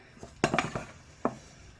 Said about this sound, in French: on remue et on assèche sa pâte